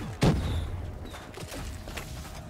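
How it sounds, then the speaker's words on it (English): Fireworks or gunfire in the Black Ops 3 custom zombies video game, a loud booming blast at the start followed by fainter rumbling pops and game noise. "I just hear fireworks going out"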